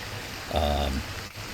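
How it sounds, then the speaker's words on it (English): Steady rain hisses across the surface of a planet in a video game, filling the whole moment, with a brief tonal hum swelling over it midway. "it rains a lot on this planet"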